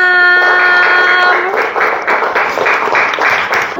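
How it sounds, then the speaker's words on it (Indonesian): A classroom of students claps for a presenting group, steady collective applause rising after a brief held tone at the start, then continuing evenly at moderate loudness. "Tepuk tangan untuk kelompok 6."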